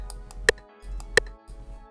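Two sharp rim clicks from an R&B beat, evenly spaced and loud, sitting over a soft low backing groove with faint ticking hi-hat-like hits between them.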